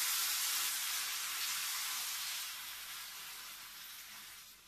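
Bolognese sizzling in a pan, a steady, close hiss of frying that fades slightly toward the end, with no talking over it.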